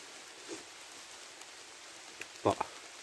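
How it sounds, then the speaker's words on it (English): Light rain falls at a wild camp in Scotland, a faint, even patter with a few sharper drop taps close by. "the rain's coming down."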